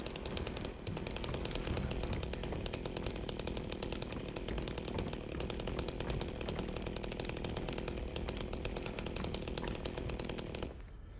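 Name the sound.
chainsaw in video game Silent Hill 2 Remake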